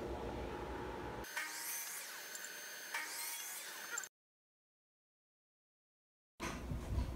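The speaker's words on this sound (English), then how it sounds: "We just have to rip the sides down on the table saw and turn them into these." A table saw rips 1x2 wood boards into strips, giving a high whining cut that rises in a few surges, then stops with a dead silent gap before the noise returns briefly.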